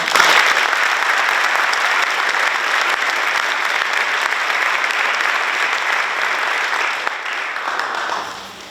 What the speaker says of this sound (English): we'd like to give them another round of applause.